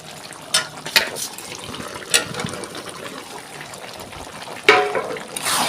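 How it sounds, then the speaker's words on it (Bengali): Chicken curry with marinated meat and potatoes is stirred in a pot, giving a continuous wet sizzle with scattered spoon knocks and scrapes against the metal, close and fairly loud. "ভালো করে নাড়তে থাকবো মাংসটা"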